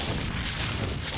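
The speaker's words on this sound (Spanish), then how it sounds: "volvamos al plan A, los cañonazos" Cannon fire in the video game ARK rolls out as a dense, continuous barrage of heavy booms, loud and sustained with no pause and no talking over it.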